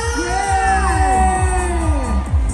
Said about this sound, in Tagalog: Pwede po ba namin marinig muna ang inyong malakas na palakpakan na may kasamang hiyawan?